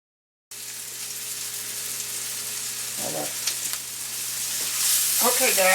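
Cube steak frying in a skillet, a steady close sizzle running throughout with a few brief stirring or spatula scrapes, growing slightly louder and brighter toward the end.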